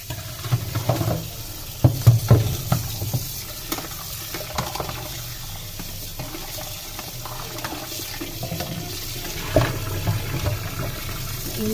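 Tap water running and splashing while boiled beef is rinsed under the faucet, a steady wash with a few louder clattering bursts near the start and again later.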